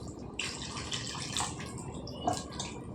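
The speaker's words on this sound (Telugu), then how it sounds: "ఇందులో ఇప్పుడు మనం నీళ్ళు వేసుకుందాం, కూరకు తగినంత." Water pours into a pot of small-fish curry, a faint splashing trickle with a few brief louder splashes and no talk over it.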